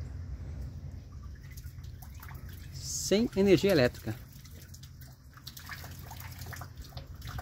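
A water wheel turned by the current of a shallow stream pumps water without electricity, giving a steady, quiet rush of flowing water while someone speaks briefly.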